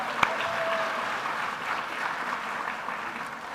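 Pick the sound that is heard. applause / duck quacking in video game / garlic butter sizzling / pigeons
applause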